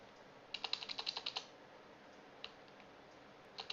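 A quick run of keystrokes clatters on a computer keyboard, then a single click and another short flurry, faint and close in a quiet room.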